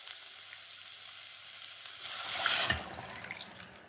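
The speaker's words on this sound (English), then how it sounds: "simple using some hot water from my kettle" Freshly boiled water pours from a kettle into a large cup, starting as a soft hiss and swelling into a brief, louder splashing gush near the end.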